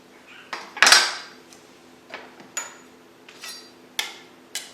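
A knife slices avocado into thin pieces for a post-workout dinner, producing a series of about seven crisp, separate taps and clicks against a cutting board with short pauses between them, close and clear with no talk.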